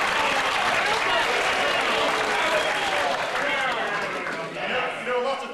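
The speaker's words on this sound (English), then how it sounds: "Would you like to give yourselves a round of applause?" A theatre audience on a snowy night gives itself a dense, sustained round of applause, loud and continuous before tapering off, with voices in the mix.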